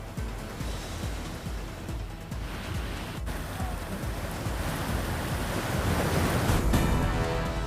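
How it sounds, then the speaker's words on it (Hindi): Rainwater rushes across flooded roads during heavy rain and floods, a steady broadband roar that grows a little louder toward the end, with no voices. "सड़कों पर बह रहा है बारिश का पानी।"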